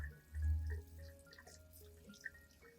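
Snake plant roots are rinsed under clean running tap water, with a soft splash and trickle followed by quiet dripping and light water movement and no voices.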